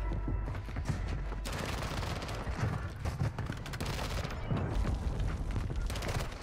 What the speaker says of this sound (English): Can't see what I'm shooting.